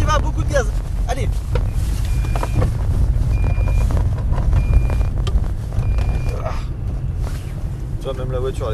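A Fiat Punto drives hard on a snowy driving course, its engine a strained, steady drone with wind buffeting throughout, while people talk over it.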